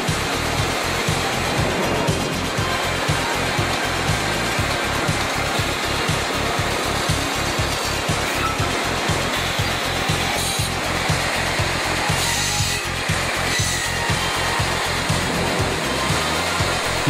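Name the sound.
automatic timber milling machine processing a rafter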